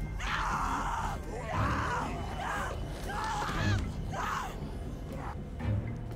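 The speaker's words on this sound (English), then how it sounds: "Oh, please don't tell me I have to hear her scream the entire time, though." A woman screams repeatedly in The Walking Dead video game, about four strained, wavering cries heard over a constant low rumble of game background noise.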